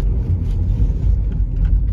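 A car with a TSI or MPI engine accelerates in first gear. A loud, steady engine rumble and drone is heard from inside the cabin, with no talk.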